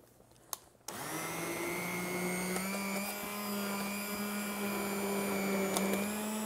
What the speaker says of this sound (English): I'm going to use the immersion blender with it